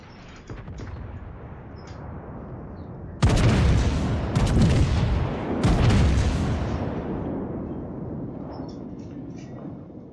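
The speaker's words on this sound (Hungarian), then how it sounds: "Az első lövésem, de szétment." Warship guns fire in World of Warships, a few loud booming salvos with long rumbling decay, preceded by lower ambient game noise, no talk.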